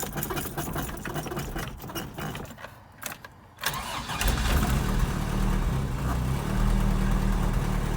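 A Toyota 22R engine cold starting: several seconds of rapid starter cranking with pauses, then the engine catches and settles into a steady, rough idle with an exhaust leak, close and fairly loud.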